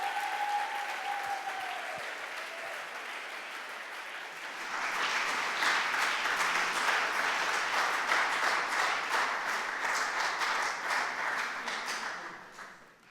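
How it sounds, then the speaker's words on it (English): A gala crowd claps for a speaker taking the stage. Applause swells after a few seconds into sustained, fairly distant clapping, then fades out near the end. "make a round of applause as she takes the stage"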